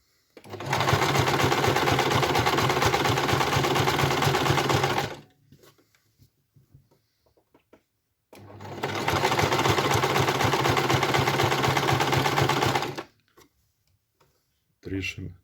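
An ordinary home sewing machine stitches a fleece buff hat in two long, loud, fast-rattling runs, separated by a near-silent pause, and a short burst starts again at the end.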